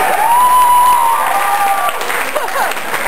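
Audience at an Armageddon Expo 2007 animation panel applauds, a loud steady wash of clapping with some cheering, with a voice over it.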